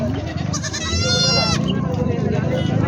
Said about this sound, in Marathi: पिली पाहू शकता तुम्ही क्वालिटी एक नंबर आहे शेळीची